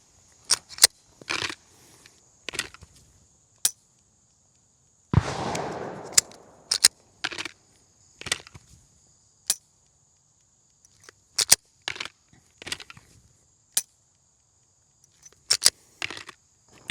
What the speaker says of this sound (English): So I'm gonna run a bunch of dry fire here.